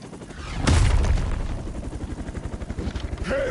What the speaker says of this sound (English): That explosion just shorted out half our systems.